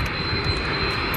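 Airplane engine at Sorocaba airport, a loud steady drone close by, heard for a moment on its own.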